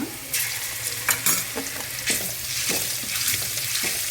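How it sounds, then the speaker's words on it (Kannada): Garlic ginger paste frying in hot oil, a dense continuous sizzle with repeated scraping stirs and spatula clicks close by. "ಎಣ್ಣೆಯಲ್ಲಿ ಫ್ರೈ ಮಾಡ್ಕೊಬೇಕು"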